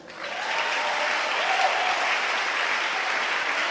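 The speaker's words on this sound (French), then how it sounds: "Acclame pour lui." Sustained applause from a church audience, steady and dense for the whole stretch, rising quickly at the start and holding at a loud, even level with no talk over it.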